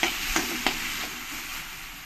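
Water poured into hot masala frying in a pan for kabuli chole, giving a steady close sizzle with a couple of sharp splashy bursts near the start, then an even frying hiss with no talk.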